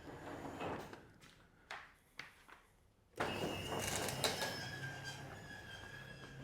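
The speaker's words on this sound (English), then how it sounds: "So let's open these doors and see which vehicle needs the attention." Doors open in a garage holding a P38 Range Rover: a few quiet clicks and knocks, then a sudden loud, sustained rumbling whir as the doors move and stay in motion.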